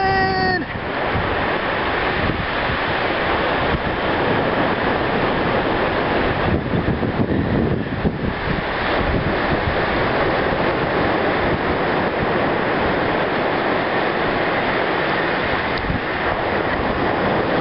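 Ocean waves wash onto the beach at Gulf Shores in a loud, continuous broadband roar that swells and recedes, heard close with wind buffeting.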